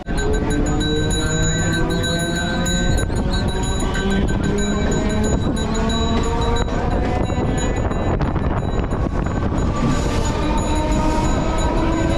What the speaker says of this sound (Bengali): চলুন ট্রেন ছেড়ে দিয়েছে